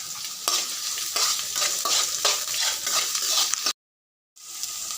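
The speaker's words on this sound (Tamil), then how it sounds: "கருவேப்பிலை செவத்ததும் அரிஞ்சு வச்ச வெங்காயத்தை போடணும் கட் பண்ணி வச்ச வெங்காயத்தை கட்டி கிளறணும்" Chopped onions fry with curry leaves in a hot pan while being stirred, a loud, close sizzle with rhythmic scraping strokes every half second or so, then a short silent gap before the frying resumes.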